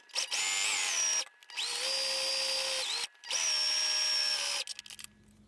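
A sewing machine stitches a fabric face mask in three close, loud runs of a steady whirring hum, each a second or so long, separated by brief stops.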